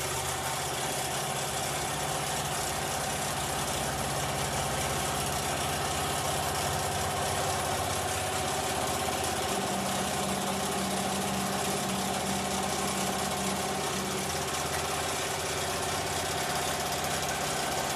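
An embroidery machine stitching an in-the-hoop wine gift set, a steady continuous mechanical hum and rapid needle buzz running evenly throughout, with no voices.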